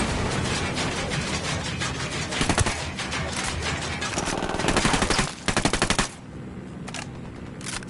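Automatic rifle fire crackles through a Ghost Recon Wildlands firefight, sustained bursts and sharp rapid volleys up close, with a louder cluster of shots near the end before it drops to a quieter tail.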